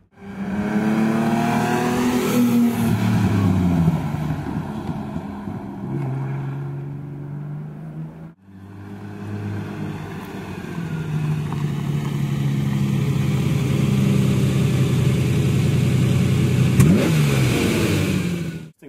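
A car engine revs and accelerates hard nearby, pitch rising and falling through gear changes, pausing briefly before climbing again in a long, loud run.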